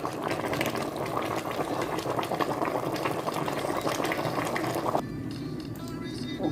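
Spinach leaves being washed in water make a steady, close splashing and sloshing that runs continuously, then quiets abruptly near the end. A voice is faintly present.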